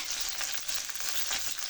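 Garlic sizzling and frying in coconut oil in a pan, a soft, steady crackle with faint stirring, quiet and close with no voices.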